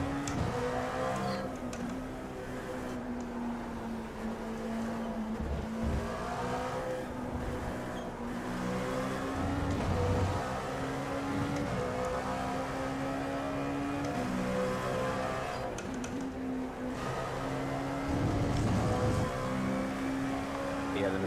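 A LMP1 prototype race car in the iRacing sim at Hockenheim, its engine droning steadily with a rising and falling whine as it closes in, heard under a constant bed of other engines while people talk over it.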